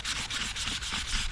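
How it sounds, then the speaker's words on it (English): Rhythmic abrasive rubbing as a Scotch-Brite pad scuffs a car wheel, quick back-and-forth scrubbing strokes about five per second, close up and steady, with no voices. "technically the Scotch-Brite is sanding it"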